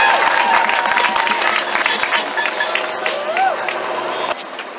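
A crowd at a liberation march claps and cheers in a dense, sustained burst of applause with scattered whoops, loud and close, under some shouting voices.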